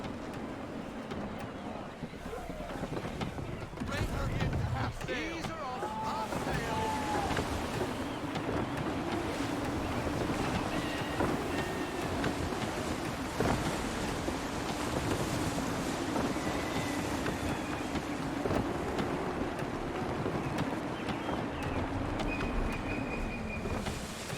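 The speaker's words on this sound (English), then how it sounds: "Wind looks to be shifting. Stay alert, Connor. Gusty winds can be difficult to manage." Gusty wind at sea while sailing in Assassin's Creed 3 makes a continuous roar of wind and water around the ship, with a low rumble and faint creaks that stay steady throughout, with no one speaking.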